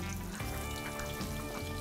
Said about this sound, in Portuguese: Olha, tá fritando.